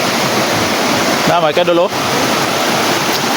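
Clear stream water rushes steadily over mossy rocks in a shallow creek, a loud continuous wash throughout, with someone speaking briefly over it midway.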